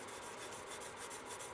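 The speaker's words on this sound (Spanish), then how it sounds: "una lija que esté usada, que sea vieja o de un grano finito, pues simplemente podremos utilizarlo para" Fine, worn sandpaper rubbing a plastic AH-64 Apache model kit fuselage, a soft, steady rasping scrape in short repeated strokes, close and quiet.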